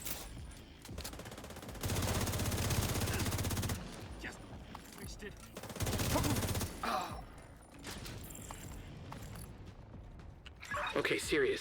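Video game gunfire comes in two dense broadband bursts of rapid shooting, one lasting about two seconds and a shorter one later, with clicks and talk in between and a final burst of noise at the end.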